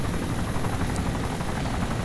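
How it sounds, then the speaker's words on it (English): A helicopter in flight inside the ARMA 2 military game gives a steady, loud rotor drone with a low, pulsing thump and a constant high whine, heard continuously as if from the cabin. "it's like another lovely chopper ride"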